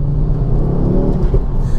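A 10-year-old Ford Focus RS Mk2 engine drones low and steady from inside the car while driving, a loud, continuous rumble with slight rises in revs and no talk.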